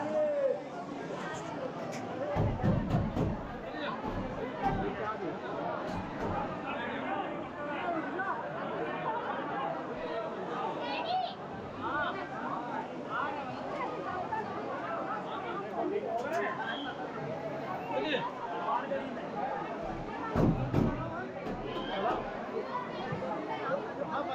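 Noisy crowd inside a crowded Hanuman temple, a dense, continuous babble of many overlapping voices with occasional louder thumps, filling the space throughout.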